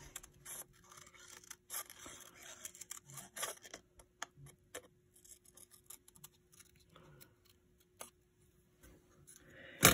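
Scissors trim designer series paper into a wavy edge, making faint, intermittent snips and scrapes close by in a quiet room.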